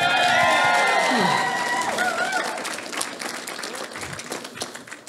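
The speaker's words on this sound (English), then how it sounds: "keep those applause going for best man" Wedding guests applauding for the best man at an indoor reception, scattered clapping under a fading musical tone at the start, then thinning to lighter, uneven claps as the room quiets.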